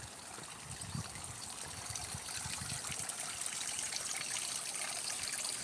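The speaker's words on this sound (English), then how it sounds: "And here again we have the sound of the water, which I love so much." Steady trickling water at an old-style Japanese house with stone walls, a continuous gentle dribble and splash running alone without talk throughout.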